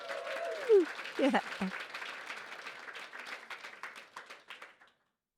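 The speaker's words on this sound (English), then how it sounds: "Can we give everyone a bit of a cheer for coming today?" Live audience at an emerging-tech podcast event on future skills cheers and applauds, a burst of clapping with a few whoops that carries on steadily for several seconds before tapering off, a brief spoken word near the start.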